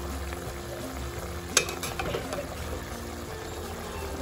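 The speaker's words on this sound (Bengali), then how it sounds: "দেখতে পাচ্ছেন ফুটছে" Prawn malai curry bubbling steadily in a pan, a dense continuous simmer with a brief clatter partway through, no voices.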